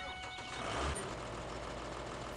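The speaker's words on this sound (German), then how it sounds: "So, Trecker an." A tractor engine cranks and catches in Farming Simulator 17 on PS4, a brief starter whir swelling into a steady idle rumble, fairly quiet and with no talk.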